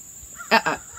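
A cat lets out two short, close meows in quick succession, each lasting only a moment, with quiet surroundings before and after.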